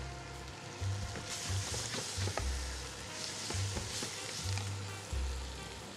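Food frying in hot oil in a pan, a steady loud sizzle with intermittent low thumps and stirring noises throughout, close up with no talking.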